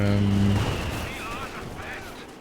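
Artillery barrages and mortar fire boom and crackle in a competitive strategy video game match, forming a dense, rumbling wall of blasts. A short voice-like tone sounds at the start before the battle noise slowly fades.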